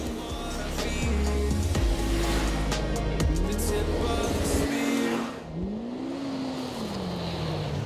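A 225-horsepower naturally aspirated dirt track race car engine revs hard and accelerates, loud and close, its pitch climbing and falling through gear changes with a brief dip before pulling strongly again.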